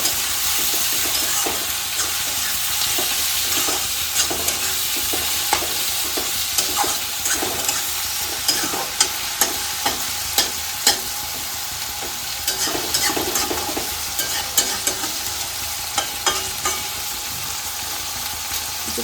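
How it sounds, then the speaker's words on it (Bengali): Chopped onions and tomatoes fry with salt in a hot pan, giving a steady close sizzle broken by repeated scraping clicks and knocks as a spatula stirs them. "দেখো এখানে পেঁয়াজগুলো সুন্দর ভাজা ভাজা হয়ে এসেছে"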